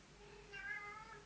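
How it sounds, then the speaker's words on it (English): A house cat meows insistently behind a closed door, one drawn-out wavering call that swells and fades against a quiet indoor background, with no voices. "my cat is upset because the door is closed."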